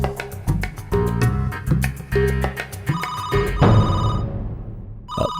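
A landline telephone rings indoors in a repeated pattern of bright electronic tones that pause briefly, then sound again once more near the end.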